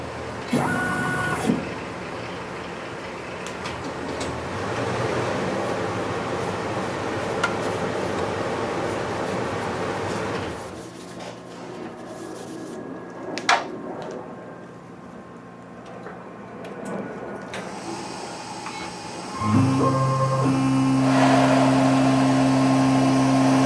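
A CNC machine drills screw holes while building a work table, a steady mechanical whir running for about ten seconds, then quieter motor hum with a brief sharp click, and a louder tonal spindle whine starting near the end.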